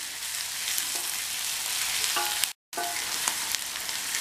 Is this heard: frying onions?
yes